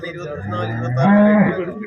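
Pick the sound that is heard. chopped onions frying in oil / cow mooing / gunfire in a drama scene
cow mooing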